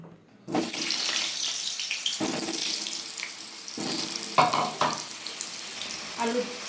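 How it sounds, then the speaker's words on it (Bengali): Cut potatoes frying in a pan for chicken curry, a close sizzle broken by bursts of louder crackling and splashy stirring as pieces are moved, no voices. "আলুটা ভেজে নেব"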